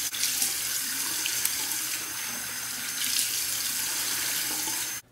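Tap water runs steadily into a sink while warming the face before a shave with a Rex Ambassador XL razor, a constant close splashing hiss with no talk, cut off abruptly at the end.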